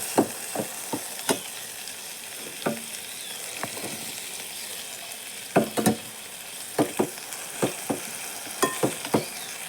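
Chopped bottle gourd sautés in a pan under a continuous soft sizzle, with a spoon knocking and scraping against the pan in irregular bursts of stirring, near and moderately loud.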